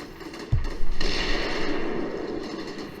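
Stryker armored vehicle firing on an enemy sniper in Combat Mission Shock Force 2, a sharp close report followed by a sustained, rumbling burst of gunfire that lingers and rolls on without voices.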